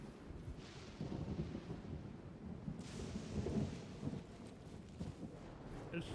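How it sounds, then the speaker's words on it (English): Thunder in the video game Genshin Impact, a deep rolling rumble that swells and lingers with a hiss like rain over it, moderately loud and steady with no talk. "Dude, I love the sound of the thunder."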